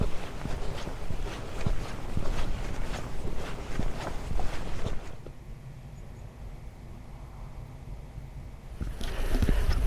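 Footsteps crunch steadily outdoors while walking near the Needles, a quick gritty rhythm up close, then a quieter breezy lull before steps resume.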